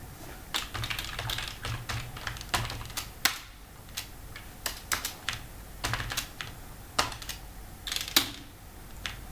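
Irregular clicks and taps of a computer keyboard as C++ code is typed, close and crisp keystrokes in uneven bursts with quiet gaps between.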